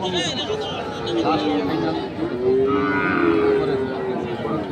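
Cattle moo in several long, drawn-out lows amid a noisy crowd of people talking at a livestock market, with the animals close by.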